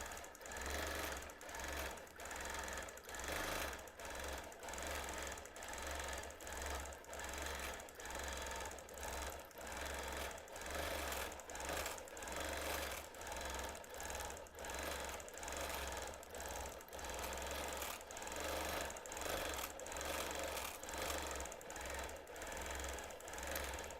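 A sewing machine stitches a quilt made without batting, giving a steady rapid chatter in regular bursts with short pauses between runs. The sound is quiet and close, with no talking.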